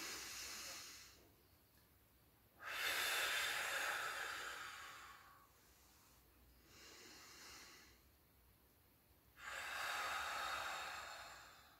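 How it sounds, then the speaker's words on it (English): Slow exhalations blown out through pursed lips during a self-administered lymphatic drainage massage, three long airy breaths with quiet pauses between, close and moderately loud with no talking. "breathing out slowly through your pursed lips when you're breathing out"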